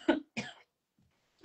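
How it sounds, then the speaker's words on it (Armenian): Three short, close coughs from one person, two in quick succession and a third after a brief pause, with quiet in between. "Օնլայն հազացնում ենք։"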